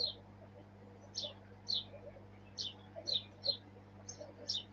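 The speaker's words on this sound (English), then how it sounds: "Shouty sparrows back outside, which you can probably hear." Sparrows outside give about nine short, high chirps in an uneven rhythm, faint and somewhat distant over a steady indoor hum.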